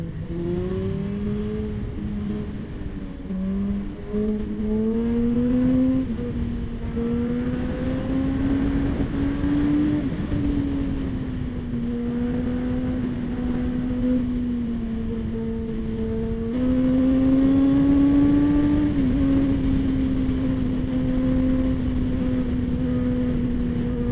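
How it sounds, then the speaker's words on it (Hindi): Superbikes ride along a busy road, their engines droning steadily with shifting pitch as they rev and accelerate, loud and continuous amid surrounding traffic. "काफी ट्रैफिक है यहाँ,"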